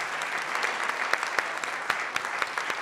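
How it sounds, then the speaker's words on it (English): A round of applause from the audience at the close of a forum talk for the speaker and panelists, soft and steady clapping from a modest crowd with occasional louder claps. "I think we should give a round of applause to Robert and to the panelists."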